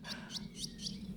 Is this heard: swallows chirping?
yes